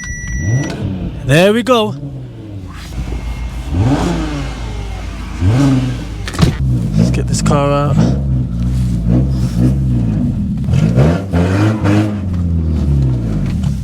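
An Audi 3.2 Quattro that has just been jump-started cranks and fires up, then revs repeatedly in sharp rising and falling bursts close by, with people talking over it.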